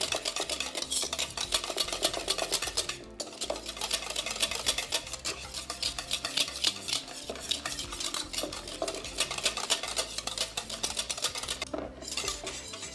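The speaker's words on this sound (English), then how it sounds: "just whisk it well so you don't have any of those lumps" Batter being whisked in a bowl for a Turkish-style brunch, a steady busy scraping and clinking of whisk against the bowl running continuously and close, with no talk.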